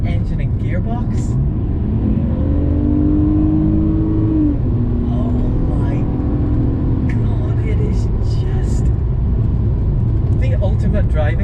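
A BMW E46 330i engine with its gearbox rumbles steadily and rises in a couple of revving swells, loud and continuous throughout, while a person talks over it.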